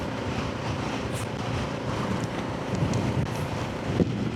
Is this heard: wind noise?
yes